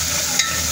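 Onions fry in a pan, giving a brief, steady, close hiss of sizzling oil.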